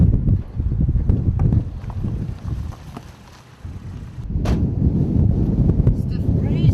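Strong gusts buffet the microphone in a steady low roar during outdoor kite flying, dipping briefly midway before surging back loud and continuous, with no clear talk.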